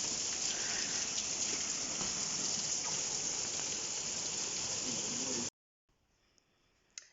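Dense, steady rush of heavy rain pouring and splashing from overflowing gutters, loud and continuous, cutting off abruptly near the end.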